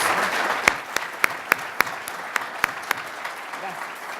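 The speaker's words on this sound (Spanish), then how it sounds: "recibirlos con un muy, muy fuerte abrazo y caluroso aplauso" Rhythmic applause at a church gathering, a steady series of about ten sharp, distinct claps spaced evenly over a soft background of voices and crowd murmur.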